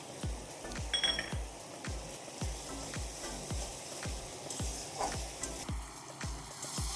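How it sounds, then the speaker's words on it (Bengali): Spices with turmeric sautéing in a pan for a Bengali fish in poppy seed paste dish, a steady close sizzle broken by a regular rhythm of soft stirring taps and scrapes, with no talk. "আর হাফ চামচ হলুদ গুঁড়ি দিয়ে ভালো করে একটু কষিয়ে নেব"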